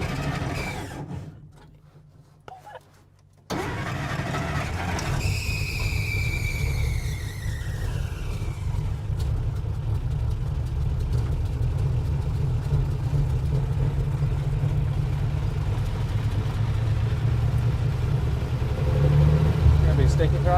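A car engine that sat unused for 30 years turns over after a brief quiet moment and then keeps running with a steady mid-pitched drone and a squealing whine near the start.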